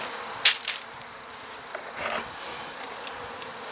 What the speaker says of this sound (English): See what I mean when I say like a softball sized cluster of bees?